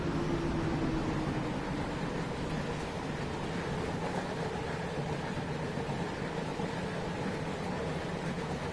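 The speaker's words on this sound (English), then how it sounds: "all the wagons on here have the sound, the freight car upgrade as well" Freight wagons rolling in Train Sim World 4, a steady dense rumble with a low droning hum, continuous and even in level, with no talking.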